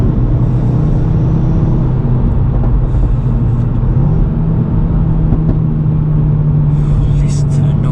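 Stage 2 tuned Audi RS3 five-cylinder on a mountain pass, a loud, steady low engine drone and road rumble heard from inside the car, with a voice talking over it.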